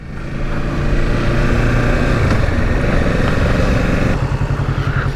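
A Kawasaki Z650 motorcycle riding on a motorway, its engine a steady loud drone close up, with constant rushing wind noise and a slight change in engine tone near the end.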